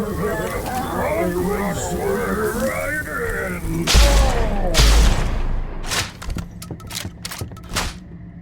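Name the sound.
shotgun fire in the video game Blood West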